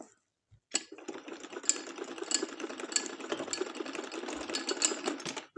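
A sewing machine stitching a kameez sleeve runs in one steady, continuous whirring burst of about five seconds after a brief quiet start, close and alone.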